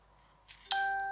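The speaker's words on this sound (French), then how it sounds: "Je m'excuse si vous entendez des petits dings," A smartphone gives a short notification ding, a clear bright tone that rings on briefly after a faint click, close by in a quiet room.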